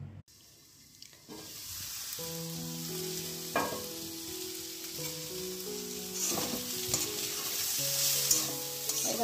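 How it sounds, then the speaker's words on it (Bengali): Potato, bitter gourd and onion fry in a pan with a steady, close sizzle and occasional stirring, while background music plays over most of it. "আলু করলা পেঁয়াজ দিয়ে একটু ভাজা হচ্ছে"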